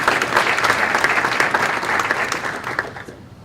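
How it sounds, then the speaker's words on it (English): Conference audience giving a round of applause for a chancellor's welcome, thick continuous clapping from a large crowd that stays loud, then tapers off near the end. "please let's give a round of applause for him."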